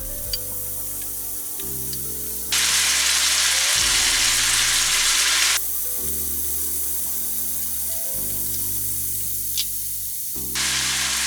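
Beef searing in a pan before going into a slow cooker for Greek stifado stew, a steady loud sizzle that swells into a broad hissing surge in bursts, with no talking.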